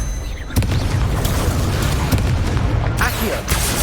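The Confringo fire spell exploding in Hogwarts Legacy, a loud booming blast that opens into a sustained roaring rumble with a second crack near the end, amid busy game noise and battle vocals.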